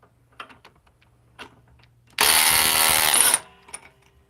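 DeWalt XR DCF870 hydraulic impact driver bursts into a loud, dense whir for about a second at close range, set between scattered quiet clicks and small handling noises.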